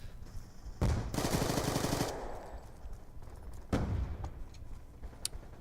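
Gunfire in the Black Ops 2 video game: a short automatic burst rattles loudly, a single sharp shot follows a few seconds later, then quieter background game noise continues without talking.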